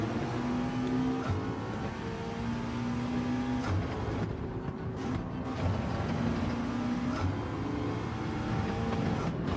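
A race car in Gran Turismo 7 drones through a lap, its engine note holding steady and then dipping sharply several times as it brakes and downshifts, loud and continuous with no voices.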